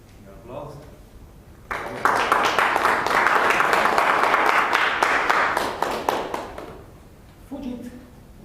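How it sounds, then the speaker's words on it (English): Applause from an audience at a Toastmasters public speaking meeting in Cluj, a dense burst of clapping that swells for several seconds and then fades, with a speaking voice just before and after. "Your applause."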